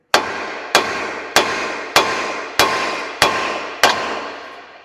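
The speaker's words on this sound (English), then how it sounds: "And then we got ourselves a big hammer, and we're just gonna hammer it right here." Seven evenly spaced, sharp metallic blows of a big hammer striking a car's lower control arm near the ball joint on a Subaru Outback, each hit ringing briefly before the next, close and loud with no talking.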